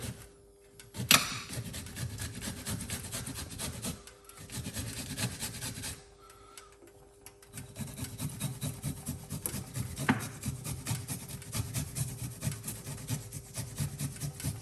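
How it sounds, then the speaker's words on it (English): Fresh ginger is grated by hand in a kitchen, making a steady raspy scraping with short pauses between passes, close and fairly quiet. "I'm going to grate the ginger over here."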